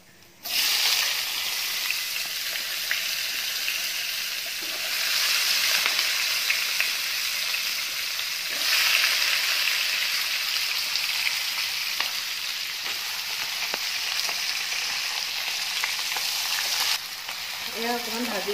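Onions dropped into a kadai of hot oil with cardamom and cinnamon after chicken frying, producing a loud, steady sizzle that holds for most of the stretch before easing slightly at the end.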